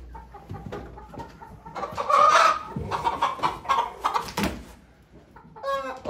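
Chickens cluck and squawk repeatedly at a poultry auction, close and fairly loud in irregular bursts, with a brief crowing call and some background noise and movement throughout.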